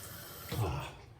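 Tap water runs and splashes as a face is rinsed after a straight-razor shave of two-week stubble, a brief steady wash close by that swells for a moment.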